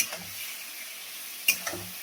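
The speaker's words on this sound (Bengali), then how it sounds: "তেলে ভেজে ভেজে ভেজে কষা করতে হবে" Masala frying in oil for a dry chicken curry, a soft continuous sizzle broken by two sharp scrapes of a spatula against the pan near the end, with no talking.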